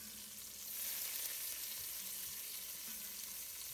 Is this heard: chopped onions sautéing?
yes